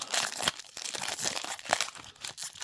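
A trading card pack wrapper is torn open in a run of crinkling, tearing plastic rustles, close and fairly quiet, with no voices.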